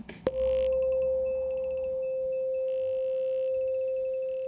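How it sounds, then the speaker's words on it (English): A sustained texture preset from the Vital software synthesizer with a bright, glassy shimmer and faint high overtones, holding steady after a short click at the start. "So I use this preset for the texture."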